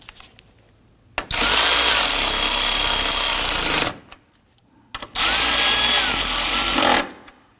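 A power tool runs in two sustained bursts of about three seconds each, loud and close, snugging down bolts on the air filter box of a Volvo XC90, with a short quiet gap between them.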